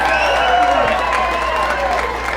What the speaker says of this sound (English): I would like to give a big round of applause to Mayor Tyler.